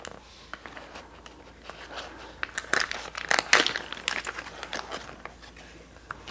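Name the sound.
cutting open a plastic package of tuna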